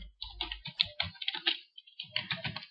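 Typing on a computer keyboard while entering data in MS Excel: quick, irregular bursts of clicking keys with one brief pause midway.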